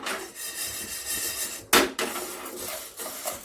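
Sabudana (sago) dry-roasting in a pan is stirred with a utensil, producing repeated scraping and rattling strokes with one sharp clack of metal partway through; no one speaks.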